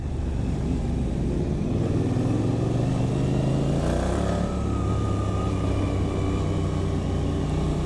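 A Ducati Monster with a Termignoni exhaust rumbles past on a winding road, its deep engine note holding steady and swelling slightly midway, loud and continuous with no voices.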